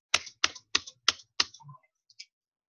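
Five crisp, evenly spaced keystrokes on a computer keyboard during an accounting lecture, followed by a couple of softer taps, close and isolated in a quiet room.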